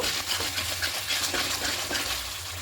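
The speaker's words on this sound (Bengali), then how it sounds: "এবার খুব ভালো করে কষিয়ে নেব দু তিন মিনিট" Spice paste for a potato and pea curry being sautéed and stirred in a pan, a steady close sizzle with soft scraping strokes continuing throughout.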